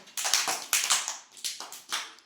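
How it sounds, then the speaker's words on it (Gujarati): Children in an anganwadi clapping once together, heard as five or six ragged, unsynchronized sharp claps close by, with brief quiet gaps between them. "ચાલો બધા એક તાળી પાડો"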